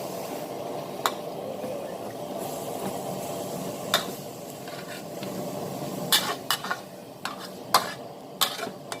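Squid and holy basil stir-fried over high heat in a pan, a soft steady sizzle under sharp intermittent clinks and scrapes of a spatula against the metal, quicker toward the end.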